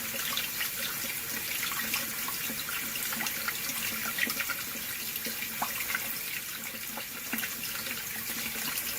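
Steady water flow running through a Rheem RTEX-18 electric tankless water heater in a St. Louis home in winter, a constant close rushing hiss with no talk.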